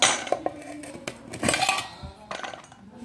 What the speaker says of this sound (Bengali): খুলে নিই আগে ঢাকনাগুলো